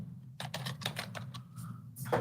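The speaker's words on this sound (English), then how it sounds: "I can't see what I'm typing." Quick runs of keystrokes on a computer keyboard, close and quiet, clustered clicks with short pauses over a constant low hum.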